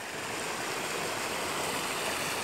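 Floodwater from heavy rain rushes past a collapsing earth bank, a steady broadband roar of flowing water, continuous and even without breaks.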